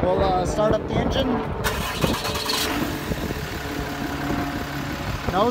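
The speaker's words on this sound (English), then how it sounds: "Start up the engine." A 2008 Sterling bucket truck's engine cranks and catches, then settles into a steady, loud diesel-like run close by, with no voices over it.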